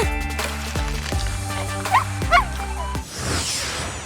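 A dog gives several sharp, loud barks in a row close by, with a couple of high whimpers in between, in a pet-tricks setting indoors.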